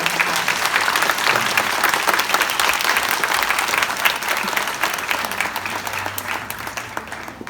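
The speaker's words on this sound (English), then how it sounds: "please give our wonderful panel a round of applause" Audience at an international design conference applauds a panel, dense sustained clapping that stays loud throughout and eases off slightly toward the end.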